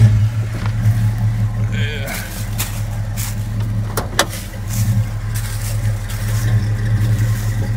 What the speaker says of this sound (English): And we'll go ahead and crank it up here.